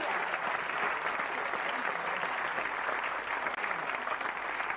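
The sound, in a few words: audience applause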